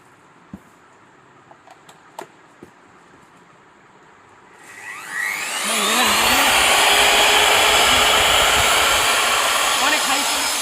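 A core drill machine of the kind used for boring holes through roofs and for sanitary work in large buildings is switched on after a few faint clicks and whines up to a loud, steady motor drone that runs alone to the end.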